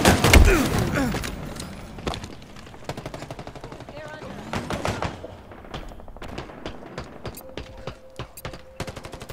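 Gunfire in a Halo Infinite multiplayer match: a loud opening burst of rapid shots, then scattered sharp reports and short volleys at varying distance over game noise and a faint tonal cue.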